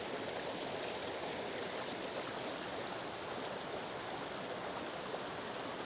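A morning waterfall pours into a stream in a steady, dense broadband rush, close and constant throughout with no voices.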